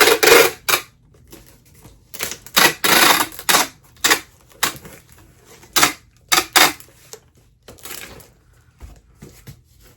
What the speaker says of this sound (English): I'm gonna put some more tape on this because it's lifting up.